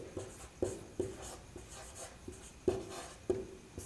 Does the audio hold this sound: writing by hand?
yes